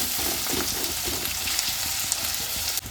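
Onions sizzle in a hot pan for lunch pilau and egg curry, a steady, close crackling hiss with scattered small pops throughout and no talking.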